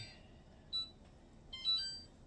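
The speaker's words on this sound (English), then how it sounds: "Let me set my timer" A kitchen timer being set while sausage and rice simmers gives two short, high electronic beeps about a second apart, faint over quiet room noise.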